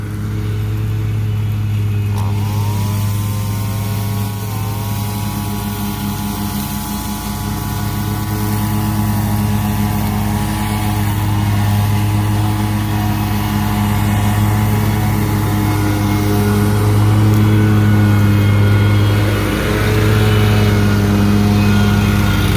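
Gas string trimmer engine running continuously at a loud, steady drone, its pitch climbing as it revs up and then holding high, with no talk.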